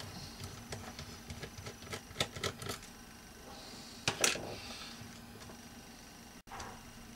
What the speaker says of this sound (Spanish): Quitamos estos dos tornillos y aquí hay un tercero